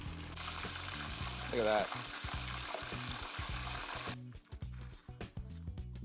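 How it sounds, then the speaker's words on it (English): Steady crackling sizzle of fish frying in hot oil, broadband and continuous, with a brief spoken remark over it and some clatter near the end. "Listen to that sizzle."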